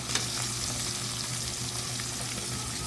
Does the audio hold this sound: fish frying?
yes